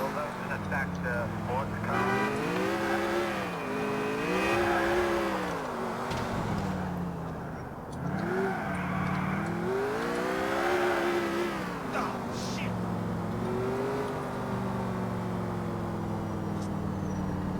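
Car engine in Grand Theft Auto IV revving up and down in repeated swells as the vehicle drives, loud and continuous, with someone talking over it.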